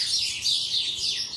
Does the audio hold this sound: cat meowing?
no